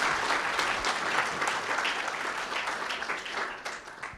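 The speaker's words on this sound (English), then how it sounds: "Let's give a round of applause." An audience at a coaching training panel event claps in steady, dense applause that holds for several seconds, then thins slightly toward the end.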